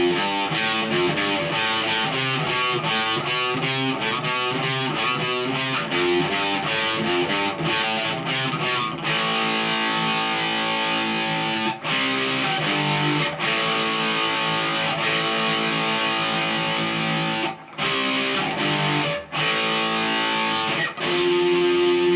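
Distorted electric guitar power chords playing a riff, loud and continuous with rhythmic chord strikes and slides, a few brief stops between phrases, no talking.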